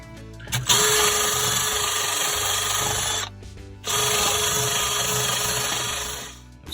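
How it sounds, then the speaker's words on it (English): A wire brush wheel on a power drill scrubs old silicone off a cooler with a loud, whirring grind. It runs in two long passes separated by a short pause, close by with no talk. "I'll take a wire brush on a wheel to remove the silicone."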